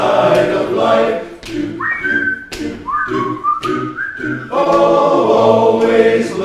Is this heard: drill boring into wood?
no